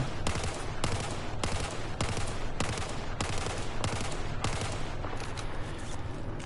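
Rifle in Battlefield 4 with a muzzle brake fitted, firing repeated short 3 to 5 round bursts, loud and close, with about eight evenly spaced volleys and no talk.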